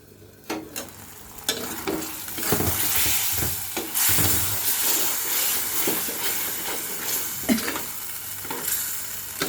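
Fish and egg curry stir-fried in a pan, loud continuous sizzling with frequent scraping and clattering spatula strokes, close up and busy throughout.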